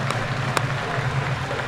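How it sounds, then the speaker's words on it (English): A crowd at the World Classic Powerlifting Championships applauds a 120+ kg lifter's effort, with dense, steady clapping from a large indoor audience and one or two sharper claps standing out. "Crowd appreciates the effort."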